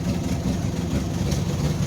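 An old Jeep on a cold start after winter storage, its engine running in a continuous, loud, low rumble with a light blip of throttle.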